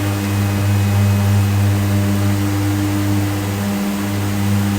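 DHC-6 Twin Otter twin turboprop engines in a flight simulator game hum in a steady, loud, droning whine with a strong low tone, easing slightly late in the stretch.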